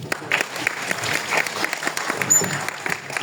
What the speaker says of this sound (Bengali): এই কবিদের জন্য আমি একটা হাততালি চাই।